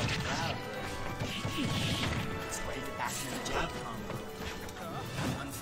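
Smash attacks land in a Super Smash Bros. Melee match between Falco and Sheik at a weekly tournament, a busy stream of impact hits and game effects under continuous commentary.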